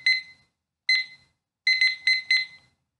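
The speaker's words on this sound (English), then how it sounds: "I will go ahead and set a timer for 10 minutes." Electronic beeps from a timer being set for 10 minutes: two single bright beeps, then a quick run of three, loud and clean against silence.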